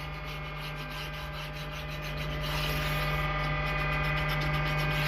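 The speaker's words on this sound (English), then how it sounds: "I've got a little bit of a stone, just a little bit. Take the back burr off" A small sharpening stone rubbed lightly along a planer blade to remove the back burr, a steady close scraping swish over a constant mains-like hum, growing slightly louder partway through, with no talking.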